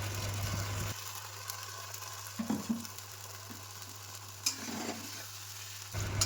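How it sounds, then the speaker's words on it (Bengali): Cumin, ginger, chili and garlic paste masala frying in a pan for chicken khichuri, a soft steady sizzle with occasional louder stirring scrapes, close and without speech. "এবার মশলাটাকে ভালো করে কষাতে হবে।"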